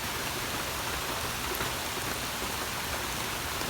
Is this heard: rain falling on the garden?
yes